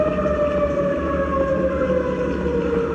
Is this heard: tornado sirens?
yes